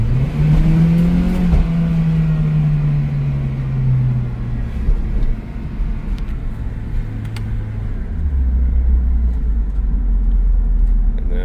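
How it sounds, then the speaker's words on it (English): An Acura RSX fitted with paddle shifters downshifts, the engine note swelling then sliding downward before settling into a low, loud idle-like drone heard close from inside the cabin. "Downshift."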